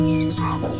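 Young chicks and chickens of a small Austrian breed clucking and chirping together, a dense, continuous flock chatter close by with overlapping calls.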